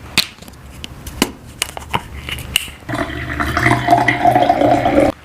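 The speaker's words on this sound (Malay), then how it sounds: "Aku suka tengok air bila dia jatuh tu." Bottled mineral water from Batu Pahat, Johor, with a few sharp taps and knocks at first, then a sustained close splashing pour of water falling into a container.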